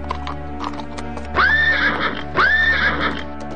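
A horse neighs twice in quick succession, loud and close, each whinny rising then trailing off, over a steady low background hum.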